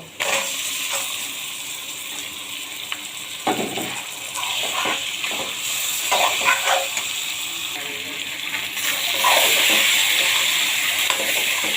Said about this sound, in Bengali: ভালো করে ভাজা হয়ে গেছে, এখন মাছগুলো দিয়ে দেব।